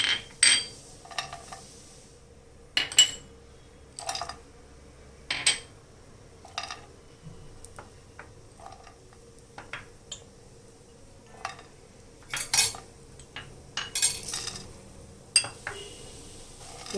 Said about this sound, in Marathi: आणि सगळे ड्रायफ्रुट्स भाजून घ्यायचे